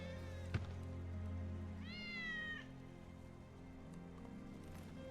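A cat meows in a video game, one clear, rising-and-falling meow over a steady low game soundtrack hum, with a sharp thump just before it and faint clicks after.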